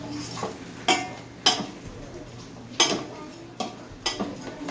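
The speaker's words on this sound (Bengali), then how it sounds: "চালটাকে যে মাখিয়ে রেখেছিলাম চালটাকে এবার দিয়ে কিছুক্ষণ আমি ভাজবো" Rice being fried in ghee in a pan for Basanti polao, with a soft background sizzle broken by several sharp scraping and clinking strokes of a spoon stirring against the pan.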